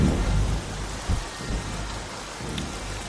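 Heavy rain pours in a film scene, a loud steady hiss with low thunder rumbling underneath and a few heavier thumps, with no talk.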